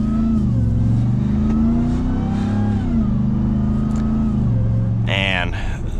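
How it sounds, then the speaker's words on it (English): A supercharged V8 in a 2022 RAM TRX pickup pulls hard under acceleration, with a steady rumble and rising and falling engine tones that run continuously through the clip, plus a brief higher-pitched burst near the end. "You get the engine rumble with the supercharger whine and that exhaust"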